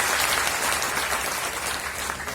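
A gathered audience at a community association meeting claps loudly to thank the government, a dense, continuous burst of applause lasting a couple of seconds, close and uninterrupted by speech.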